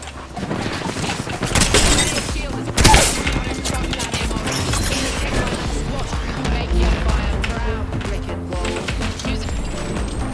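Heavy shotgun blasts from the Mastiff in the battle royale game Apex Legends, loud, sharp bursts over a dense, busy mix of in-game gunfire, impacts and action sounds throughout.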